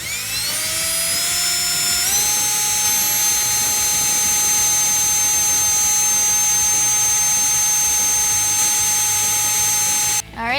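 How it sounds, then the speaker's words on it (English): A high-pitched power drill spins up drilling a pilot hole in a 2015-2017 Mustang, holding a loud, steady whine for several seconds before stopping abruptly. "we are going to drill a pilot hole here too"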